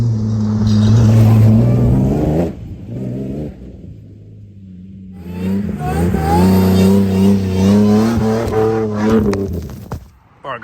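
A Toyota Hilux with an L67 engine swap revs hard in third gear as it passes close by, a loud engine note rising and falling with a brief lift off before pulling through again and fading away.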